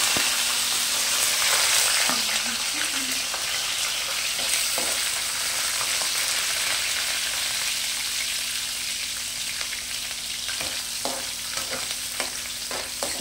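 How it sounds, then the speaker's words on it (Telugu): Peanuts and chillies roast in a pan with mustard and cumin seeds for upma, a steady close sizzle with occasional scraping stirs and a few sharp pops near the end, no voices. "నెక్స్ట్ పల్లీలు చక్కగా రోస్ట్ చేసేసుకోవాలి"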